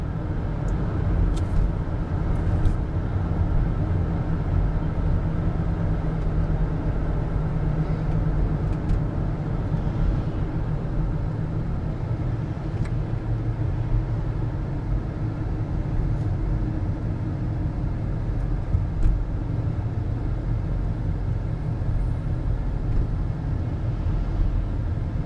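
A car on the daily drive home from a studio, heard from inside as a steady low engine and road rumble with continuous tire noise, unbroken and even in level from start to finish.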